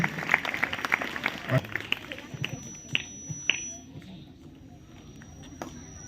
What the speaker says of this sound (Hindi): जोरदार तालियों से स्वागत करिए इन बच्चों का जो आपके बीच में आए।